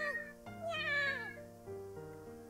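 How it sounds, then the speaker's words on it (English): A stray kitty meows in the Kitty Love video game, set in a park. The calls are drawn-out and wavering, rising and falling close up over a steady tonal musical background. "there was a kitty coming closer"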